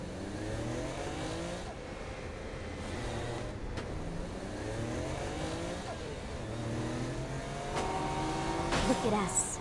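A car driven through the Saints Row: Gat out of Hell video game, its engine note rising and falling through repeated gear shifts at a steady loudness, with voices talking over it.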